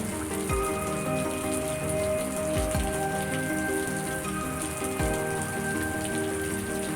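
Heavy nonstop rain pouring down, a steady, dense patter of drops on surfaces with occasional louder drips, continuous and unbroken throughout.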